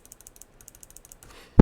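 Mechanical key switches on a 2025 Alienware 18 Area-51 laptop keyboard click about a dozen times in a light, quick, close rhythm, then a loud thump closes the sequence.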